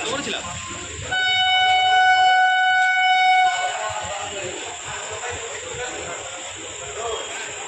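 A Down Mollah local train pulls into platform 1 at Sealdah, a steady horn sounding for a few seconds over station rumble and background chatter.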